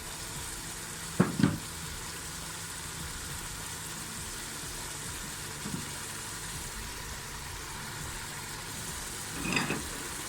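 Green chilies sizzle in hot oil with a low, steady fry hiss, broken by a few soft clinks and stirring knocks at the start and near the end, with no voices.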